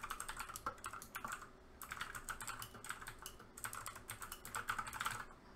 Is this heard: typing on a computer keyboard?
yes